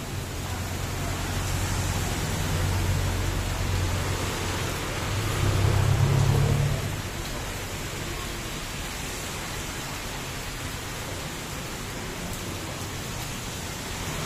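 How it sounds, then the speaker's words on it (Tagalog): Heavy rain pours in a continuous dense hiss, loud and close, with a brief low rumble swelling midway and no voices. "Grabe, lakas ng ulan."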